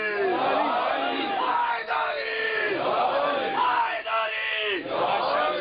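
A crowd at a religious majlis gathering in Birmingham shouts loud, unified chant responses in repeated bursts, with short pauses between each rising collective cry.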